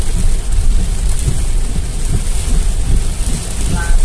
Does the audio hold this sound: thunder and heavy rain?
yes